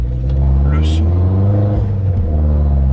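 Peugeot 208 GTI with a stage 2 tune accelerating hard, its engine a loud, steady low rumble rising in pitch over three seconds, heard from inside the car with a voice talking over it.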